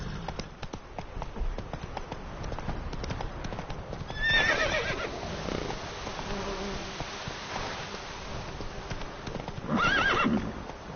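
A horse in The Witcher 3: Wild Hunt gallops with rapid, continuous clip-clopping hooves, broken by loud neighs and whinnies, with a buzzing insect-like drone in the background.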